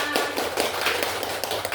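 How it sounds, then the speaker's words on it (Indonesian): A group of women at a PJOK school program outreach meeting claps together, a quick run of sharp, fairly loud hand claps filling the short moment, with faint voices mixed in. "Tepuk tangan buat kita semua"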